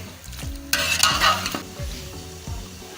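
Biryani masala is stirred into a frying mixture for chicken biryani: a spoon scrapes rhythmically through the pan several times over a continuous sizzle, with a louder burst of frying midway and no talking.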